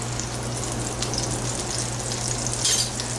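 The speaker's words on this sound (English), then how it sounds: "just saute it for a minute or two till the cumin seeds are cooked properly." Cumin seeds sauté in hot oil, giving a steady, close, crackling sizzle with a low hum underneath and a slightly louder flare of spattering near the end.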